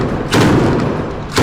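Heavy booming thuds from explosions in Gaza, two deep muffled blasts roughly a second apart over a dense rumbling background.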